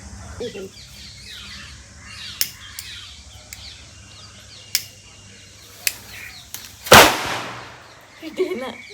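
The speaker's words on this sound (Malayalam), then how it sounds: "മറ്റേ ഒരു പടക്കം കൂടി പൊട്ടിച്ചിട്ട് അവസാനിപ്പിക്കാം." A firecracker set off for a Vishu celebration bursts with one loud sharp bang late on, preceded by several smaller cracks and snaps, with birds calling faintly outdoors.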